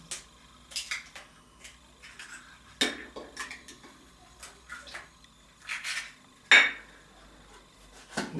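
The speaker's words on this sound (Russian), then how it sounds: "Взбиваем 2 яйца." Two eggs being whisked in a bowl for quick pizza dough make irregular clinks and taps of utensil against the bowl, with quiet gaps between the strikes.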